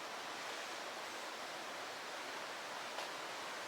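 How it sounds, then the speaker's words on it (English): River running by near the Boquete Flower and Coffee Fair, a steady, even hiss of flowing water, continuous and moderately loud, with no voices. "get a glimpse of the river running by"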